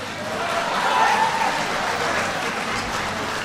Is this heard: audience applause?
yes